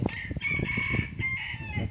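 Chickens cluck steadily at a farmyard where ducks and two flocks of chickens are kept, while a rooster crows in long drawn-out calls across the whole stretch, fairly close and loud.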